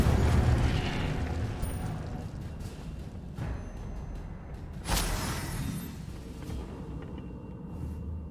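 Incendio fire spell cast in Hogwarts Legacy, a loud whooshing fiery burst at the start followed by crackling, sharp magical pops and impacts that fade away, with no voice over it.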